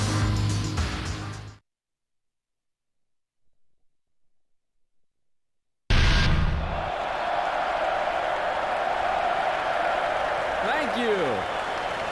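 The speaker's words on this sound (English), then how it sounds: "Thank you for your applause." A crowd applauding in a Tekken 4 cutscene on PlayStation 2, a steady, fairly loud wash of clapping that follows a short stretch of silence after a brief spoken line.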